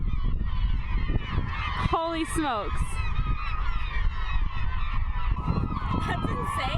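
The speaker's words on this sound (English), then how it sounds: "There are so many seagulls all of a sudden." Seagulls call over water while fishing in Alaska, a short burst of squawking cries around the middle against a constant engine-like rumble, with a brief exclamation from a person.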